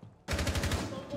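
A rapid burst of automatic gunfire in the tactical shooter Rainbow Six Siege, about eight close, loud shots in quick succession following a brief quiet moment.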